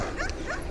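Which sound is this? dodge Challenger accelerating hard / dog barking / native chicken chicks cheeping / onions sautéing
dog barking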